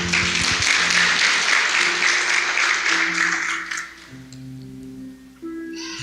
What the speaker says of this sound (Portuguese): Você pode dar uma salva de palmas para mim tomar água?